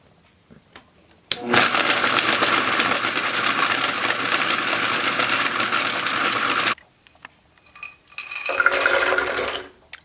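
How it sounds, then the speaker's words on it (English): A Vitamix blender churns hardened chunks in a loud, dense roar for several seconds, stops abruptly, then gives a second shorter burst, with no speech alongside. "Once it had hardened, I broke it up into chunks and I popped those chunks into the Vitamix."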